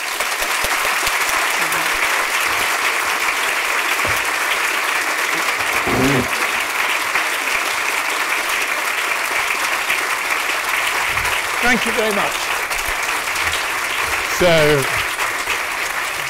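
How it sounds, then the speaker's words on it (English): Audience applause at a literary festival event with a writer, steady broadband clapping filling the whole stretch, with someone briefly speaking thanks over it near the end. "I don't want to curtail the applause for a second"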